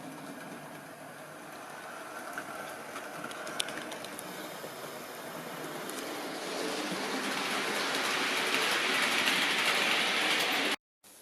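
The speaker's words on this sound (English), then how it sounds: "Just watch the D16 making a smooth, hopefully, start, leaving the station." Model railway D16 steam locomotive pulling away from a terminus station, a steady low running rumble building gradually louder over several seconds, with faint clicks and a brief jerk, no talk.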